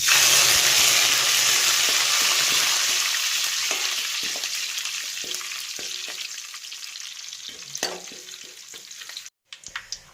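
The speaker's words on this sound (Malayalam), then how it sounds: "കടുക് ഉലുവായി മൂത്ത് വന്നിട്ടുണ്ട്. അതിലേക്ക് നമുക്ക് കുറച്ച് കരിയാപ്പിലയും കൂടി ഇട്ട് മൂപ്പിക്കാം." Mustard seeds, fenugreek and curry leaves frying in hot oil for Kerala fish pickle: a loud bright sizzle that slowly fades, with scattered pops and crackles and a brief clack before a short drop-out.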